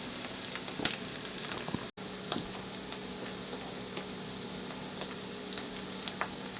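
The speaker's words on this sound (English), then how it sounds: "I'll let those onions cook in there for a little bit" Onions frying in a pan with a continuous close crackling sizzle and scattered pops, alone without voices, briefly cut off by a short dropout.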